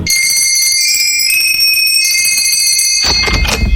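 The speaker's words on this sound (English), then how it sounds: "Rang the bell." A loud electric doorbell at a workshop rings continuously with a steady metallic tone, then cuts off into a burst of rustling noise near the end.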